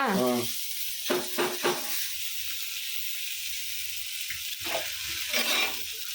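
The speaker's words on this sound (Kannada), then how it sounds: "fish fry fish fry fish fry" Fish frying in a large frying pan gives a steady broadband sizzle throughout, with a few louder bursts of crackle and stirring, close and continuous with no talk over it.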